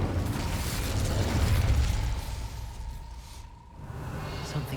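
A rushing whoosh and burst of flame as the Incendio fire spell is cast in Hogwarts Legacy, a rumbling blast that swells and then fades into a brief lull before ambient noise resumes.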